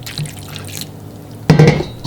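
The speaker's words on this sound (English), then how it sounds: "And now I'm going to add about 2 cups of water." Water poured from a measuring vessel into a blender jar of overnight-soaked sea moss, a short burst of splashing liquid near the mic that starts abruptly after a quiet stretch and keeps gurgling to the end.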